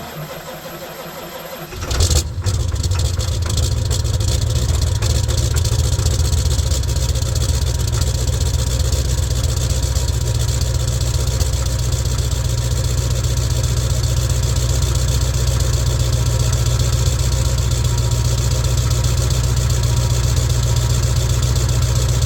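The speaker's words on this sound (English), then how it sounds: "she always starts in the cold, not plugged in, and she turns over nicely with a new battery" Diesel pickup truck with a 4-inch exhaust, started cold after glow plugs and a new battery: a brief crank catches into a loud, deep, steady idle rumble that runs unbroken to the end.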